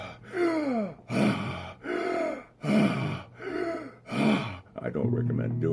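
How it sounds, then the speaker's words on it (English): Deep, heavy breathing repeated in about five slow cycles, each loud close inhale and exhale with a strained, gasping, voiced edge, ending in a shorter rougher breath. "Maybe some deep breathing."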